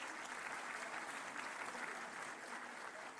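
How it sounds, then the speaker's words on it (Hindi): Steady, dense audience applause fills a government appointment-letter ceremony at Lok Bhavan, a continuous wash of many hands clapping at even loudness with no talk over it. "आप सभी अपनी जोरदार तालियां मंच तक पहुंचाएं।"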